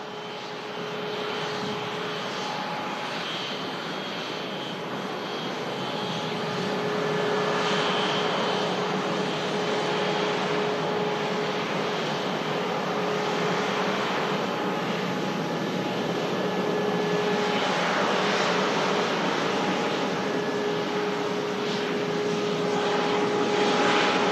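A Singapore Airlines jet at Manchester Airport roars in a sustained, broad engine drone that swells slightly and holds steady, fairly close and with no voices over it.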